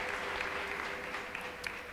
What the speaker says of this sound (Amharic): ለጌታ እስቲ አጨብጭቡ